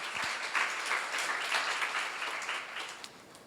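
A church seminar congregation claps while praying, a soft, continuous patter of many hands heard at a distance, with faint murmuring beneath and a slight fade near the end.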